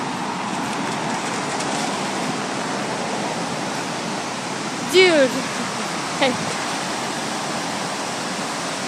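Floodwater rushes loudly and steadily through an overflowing creek, a dense broadband roar filling the whole clip while a voice briefly calls out over it.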